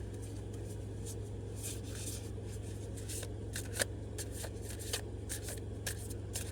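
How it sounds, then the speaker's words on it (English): Tarot cards are shuffled and pulled from the deck in soft, quick riffling and flicking bursts, faint and close against a low background hum, with no talking. "I'm going to go ahead and pull some more clarification cards."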